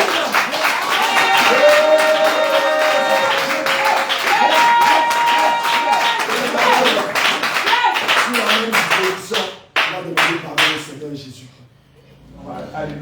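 Rhythmic clapping from a church congregation at a lively Ivorian praise-and-worship service, steady and loud alongside singing and music with sustained tones, thinning out toward the end.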